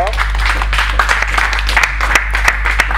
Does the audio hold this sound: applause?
yes